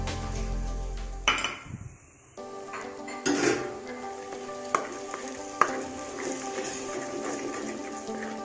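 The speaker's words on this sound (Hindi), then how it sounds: "अब मैं इसमें ऐड कर रही हूँ जो मैंने टमाटर का प्योरे रेडी करा था" Tomato puree made from blended onion and tomato goes into onion-garlic-ginger paste frying in oil for shahi paneer; a close, steady sizzle and hiss rises after it is poured in, with a few utensil clinks and stirring scrapes.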